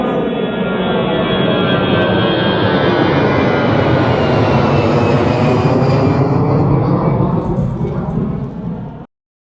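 Jet airliner roaring loudly down the runway on takeoff, a sustained heavy engine rumble that swells and stays dense for about nine seconds before cutting off abruptly.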